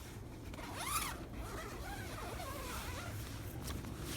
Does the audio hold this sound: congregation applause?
no